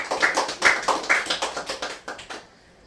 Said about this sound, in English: Round of applause in the room.